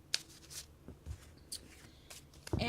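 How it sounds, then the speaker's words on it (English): Gold-edged tarot cards are overhead shuffled, giving a few faint, soft papery flicks and slides in a quiet room. "You could overhead shuffle"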